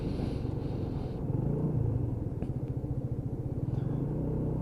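A Honda Dylan 125cc scooter rolling along at slow speed, its small engine giving a steady low purring drone with a faint pulsing throb, close and continuous with no voices.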